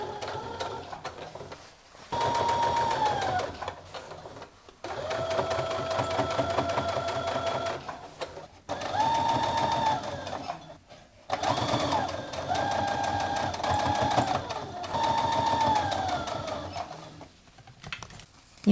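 A sewing machine stitches a seam close to a folded edge in long steady runs, pausing briefly between bursts, loud and near with no talk.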